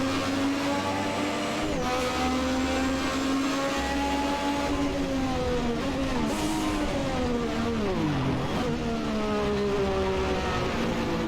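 A McLaren MP4/4 turbocharged Formula race car engine in the Assetto Corsa racing game drones loudly and without a break, its pitch falling and rising as the revs change, with no talking.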